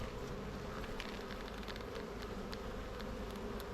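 Honeybees swarm around an open hive during an inspection, a dense, steady buzzing drone holding close and loud throughout with no voices.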